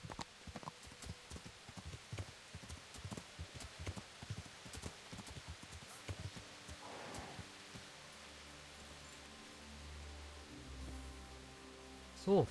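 Horse hooves galloping in the medieval open-world game Kingdom Come: Deliverance, a steady rapid clip-clop running near and fairly loud, with a low rumble and other game sounds rising late in the passage.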